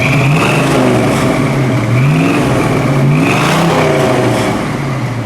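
A 1969 Ford Mustang Mach 1 with a 428 Cobra Jet engine revs close by, loud and continuous, with several rising and falling throttle blips over a deep rumble and no voices.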